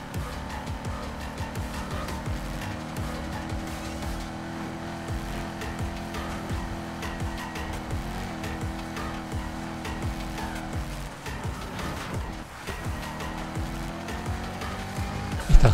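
Racing car in Need for Speed Heat roaring at steady loud engine drone throughout, with tire noise and a brief dip and surge near the end.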